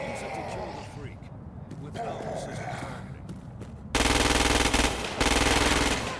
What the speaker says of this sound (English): The ordnance you now hold is a standard-issue agency assault rifle.